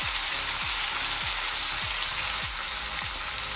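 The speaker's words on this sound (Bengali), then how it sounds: "তো আমার মাছ ভাজা প্রায় হয়ে গেছে।" Fish fries steadily in a hot pan in a home village kitchen, giving a dense, continuous close-up sizzle with no pauses, while faint low rumbling sweeps repeat underneath.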